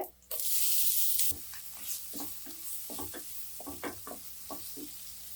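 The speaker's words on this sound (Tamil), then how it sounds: "வெங்காயம் கொஞ்சம் லேசாக வதங்கட்டும்" A brief loud sizzle as food hits a hot pan, then a series of spoon scrapes and stirring knocks as onions cook.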